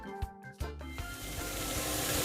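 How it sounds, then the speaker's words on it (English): Sliced Spam fries in a pan over medium heat, with a steady close sizzle that builds and spreads into a broad hiss after a few soft clatters at the start. "We are going to fry up our Spam here on a medium heat."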